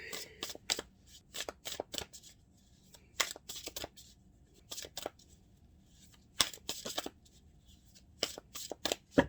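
Tarot cards being shuffled and drawn, close riffles and snapping flicks in clustered bursts separated by quiet pauses, crisp and near.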